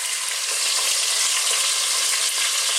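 Chicken thighs searing in a pan for an Italian cream and mushroom chicken dish, a loud, steady, close hiss of sizzling fat that never lets up.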